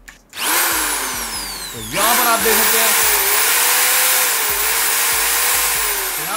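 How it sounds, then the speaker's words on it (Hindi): An electric drill machine powered through a 1500W on-grid solar inverter whines loudly and steadily, with its pitch rising as it spins up, dipping briefly at one point, then holding high and continuous while a voice speaks briefly. "अभी मैं इसके ऊपर ये ड्रिल मशीन चला के दिखा रहा हूँ"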